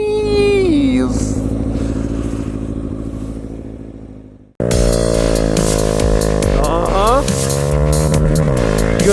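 Honda Grom motorcycle revving, then cutting off abruptly before launching hard with launch control, the loud engine note climbing through a shift as it accelerates close by.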